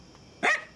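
A single dog gives one short, sharp bark at moderate distance, standing out briefly against a quiet room.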